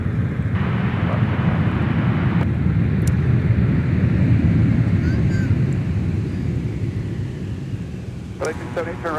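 Aircraft arriving on runway 30 left at Minneapolis–Saint Paul airport, a steady loud broadband roar with wind buffeting throughout, the rumble holding strong then easing slightly toward the end, with brief radio-like tones near the close.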